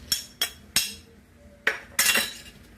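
A metal spoon clinks sharply while scooping, several bright close knocks and scrapes in an uneven rhythm, with a longer rattling scrape near the end.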